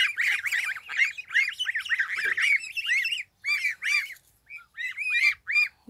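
Young geese squawk and honk in a rapid, close chorus of harsh calls that run almost continuously, then break into shorter bursts with brief pauses, with no talking over them.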